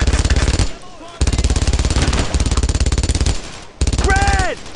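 Heavy machine gun fire in the World War II game Brothers in Arms: Road to Hill 30, loud rapid bursts with short pauses between them, close and dominant, with a brief shout-like voice near the end.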